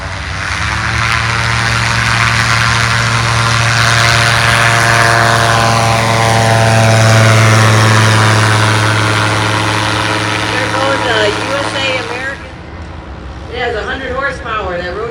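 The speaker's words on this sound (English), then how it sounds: "This is a power paraglider with a cart." A power paraglider with a cart runs its engine on the ultralights field at AirVenture Oshkosh, making a loud, steady, droning hum close by that eases off near the end.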